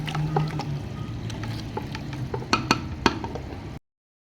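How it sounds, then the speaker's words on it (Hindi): Mutton pieces frying in a pot, a steady low sizzle with scattered sharp crackles and clinks of stirring, close and fairly loud, with no talking. "गोश्त को मैं फ्राई कर लूँगी जब तक इसका कलर ना चेंज हो जाए।"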